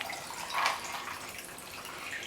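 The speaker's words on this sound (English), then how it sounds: "Then you're going to want to pour your favorite beverage." Sweet tea being poured into a glass makes a soft, brief trickling splash that swells slightly near the start and then settles into a faint, steady liquid hiss.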